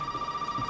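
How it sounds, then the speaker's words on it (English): A telephone rings steadily in the horror game Resident Evil 7, a bright, sustained electronic bell tone heard alone over a low ambient hum. "Is it the phone? Oh, perfect time for a phone call."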